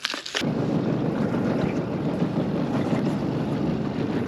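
An outboard motor runs slow on a fishing boat while trolling crankbaits in February, a steady close drone mixed with wind buffeting the microphone after a short rustle at the start.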